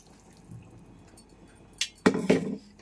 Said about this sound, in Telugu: మిక్సీ జార్లో కూడా వాటర్ వేసేసుకొని ఆ వాటర్ కూడా వేసేసుకుందాము